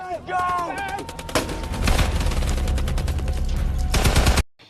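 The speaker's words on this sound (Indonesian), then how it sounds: "tiba-tiba datang musuh yang menembaki mereka" Rapid, dense gunfire from enemy soldiers in a Vietnam War battle, with bursts of automatic fire that roll on loud and close for several seconds, then cut off abruptly.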